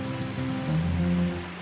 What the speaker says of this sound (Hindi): यहाँ पे ना रात से बारिश हो रही है और अभी भी बारिश होती ही जा रही है